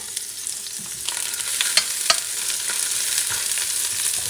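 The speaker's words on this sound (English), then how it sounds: "is some extra virgin olive oil. And I'm going to add my onions" Onions fry in extra virgin olive oil, about half an onion in a pan. The sizzle is close and crackling, with bright pops and a few scraping stirs that peak midway. No one speaks.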